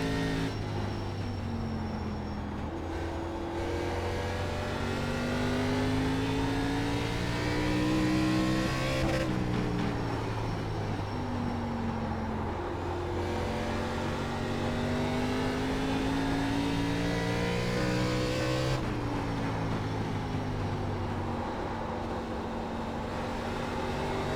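An ARCA stock car engine in the iRacing game laps North Wilkesboro, a loud sustained drone whose pitch climbs through each straight and drops sharply into the corners, repeating roughly every nine to ten seconds with no talk.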